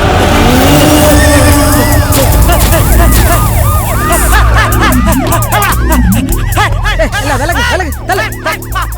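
Horses whinny and neigh again and again in a dramatic Tamil film scene, with loud overlapping calls over dense, busy background sound and commotion.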